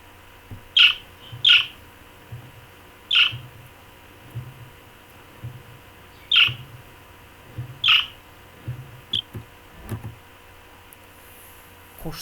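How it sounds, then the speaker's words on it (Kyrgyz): A parrot gives a series of sharp, high squawking chirps, spaced irregularly about a second apart, loud and close against a low, quiet background. "Кийинки куш тотугуш."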